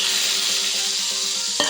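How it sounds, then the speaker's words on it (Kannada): Tempering crackles and sizzles steadily in hot oil for a potato and field bean sambar, a loud continuous hiss with a sharper clatter near the end. "ಈಗ ಇದಕ್ಕೆ ಒಗ್ಗರಣೆ ಹಾಕುವ."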